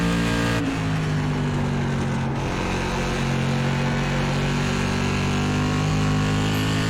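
An SK Modified race car at New Smyrna in iRacing drones loudly and steadily at high revs for several seconds, with slight pitch shifts and a couple of brief clicks, and no voices.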